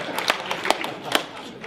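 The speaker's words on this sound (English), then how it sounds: "Give these people a round of applause" An audience at an organization's annual gathering applauds first-time attendees, with loose clapping and a few sharp claps while someone speaks.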